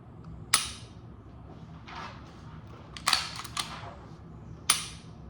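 A few sharp mechanical trigger-reset clicks from a Glock 19X pistol, spaced apart over a quiet background, with softer metallic rattles in between.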